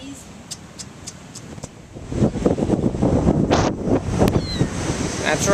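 Gusty wind at the seaside in Seaside Heights, New Jersey, buffets the microphone in a rising rough roar with a surf-like wash beneath, and a person speaks briefly over it.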